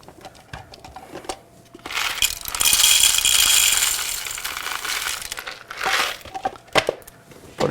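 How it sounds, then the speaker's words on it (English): Coffee beans pour into a Secura coffee grinder with a loud rattling, crinkling rush that swells and fades over several seconds, framed by scattered clicks and clatter. "Put in some coffee beans."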